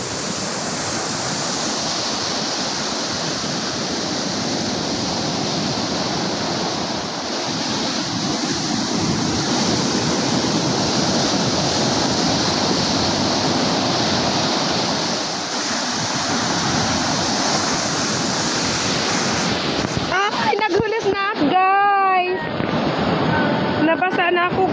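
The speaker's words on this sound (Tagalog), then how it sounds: "pumupunta na sa akin yung tubig, yung alon." Rough sea waves surge and crash onto the shore in a loud, continuous roar of churning water, and a voice breaks in briefly near the end.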